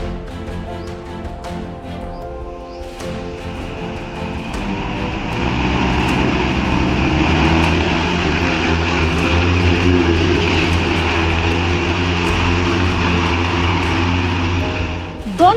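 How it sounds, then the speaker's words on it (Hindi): A homemade passenger drone with a 50 horsepower engine flies overhead, its engine drone rising from a lighter whine into a loud, steady, propeller-like roar that holds until near the end. "इस ड्रोन की खासियत यह है कि यह 4 किलोमीटर की ऊंचाई तक उड़ान भर सकता है"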